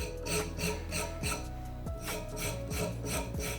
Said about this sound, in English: So our carrots, I'm just going to give a gentle rub down.